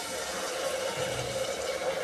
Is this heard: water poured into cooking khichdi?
yes